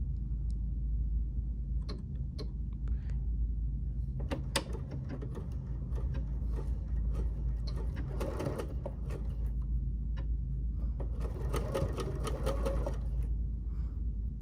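A sewing machine fitted with a number 1 foot runs under a steady low motor hum, with bursts of rapid mechanical clicking and rattling stitches, close and moderate in level.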